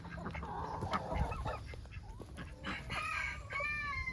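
Chickens and geese cluck, honk and crow in a busy flock being herded to roost in the evening, with a rooster crowing partway through amid rustling close by.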